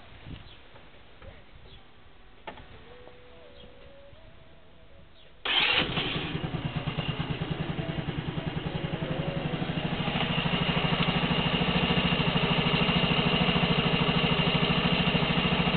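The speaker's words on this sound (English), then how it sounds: "So I'm going to start it up right now and" Quiet background, then a small moped engine sputters to life and settles into a steady, buzzing idle that grows slightly louder toward the end.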